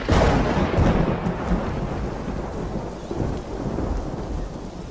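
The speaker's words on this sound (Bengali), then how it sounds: "তারপর স্কুলের ছুটি হওয়ার সামান্য কিছু আগেই ঝমঝম করে মুষলধারে বর্ষা নামল" Heavy torrential monsoon rain pours down in a steady, dense roar, loud and continuous throughout, with low rumbling undertones like distant thunder and no voices.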